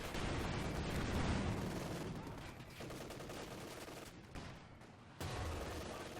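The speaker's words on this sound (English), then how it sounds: "Looks like land mattress hitting" Land Mattress rocket artillery barrage striking in Company of Heroes 2, a dense roar of overlapping blasts and gunfire that rumbles steadily, eases briefly, then surges again near the end.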